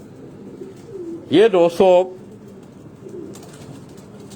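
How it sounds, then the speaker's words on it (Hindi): Pigeons kept at a home give a short burst of three loud, close coos in quick succession, with a voice speaking briefly and quiet background noise around them. "मलक बाबर साहब के घर के ये कबूतर हैं।"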